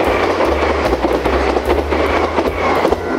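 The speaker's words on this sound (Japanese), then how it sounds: "来た、 なんかドキッとするよ、ね、やっぱ電車来るとね" A train rolls past a level crossing in Tōkai, Aichi, near Nagoya, loud and close, with a steady rumble and rhythmic wheel clatter running through the whole stretch.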